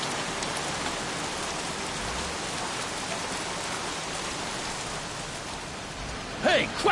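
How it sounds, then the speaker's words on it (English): Steady rain pours down in the Heavy Rain video game, a dense even hiss throughout, with a couple of brief louder splashes or footsteps near the end. "Goddamn rain. Soaking wet."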